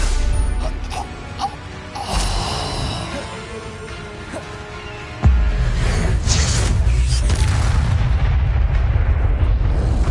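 Explosive spells go off in Hogwarts Legacy, booming and crackling, with a sharp blast about halfway through that is followed by a sustained heavy rumble.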